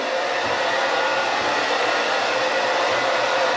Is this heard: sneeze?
no